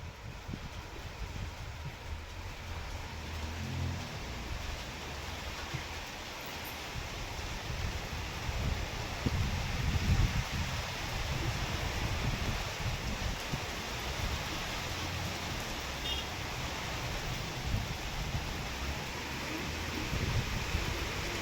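Light drizzling rain falls steadily outdoors during a downpour in Shevgaon, a soft continuous hiss with low rumbling wind, faint and distant, no clear voices.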